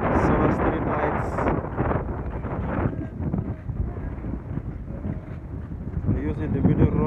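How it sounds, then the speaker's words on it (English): Strong wind roars and buffets the microphone continuously on an open road in The Gambia, a loud rumbling gust that swells and eases throughout. "Very, very windy."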